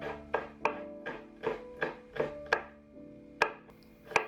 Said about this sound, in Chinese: 接下来切一个小辣椒